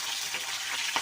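Fish head frying in a pan for muri ghonto makes a brief, even sizzling hiss close by, with no talking.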